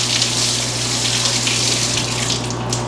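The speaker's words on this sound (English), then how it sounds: "Let me rinse these." Carrots are rinsed under a kitchen tap, and the water runs in a steady, close, continuous gush with no talking.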